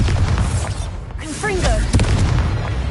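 A Bombarda explosion spell cast in Hogwarts Legacy lands as a deep booming blast with rumbling low end, loud and close, amid game effects and a voice calling out.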